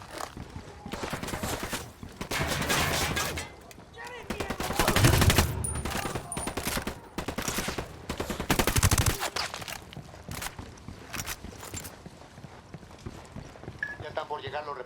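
Rapid gunfire crackling in loud sustained volleys during a firefight in the video game Ghost Recon Wildlands, mixed with shouting voices and other battle noise.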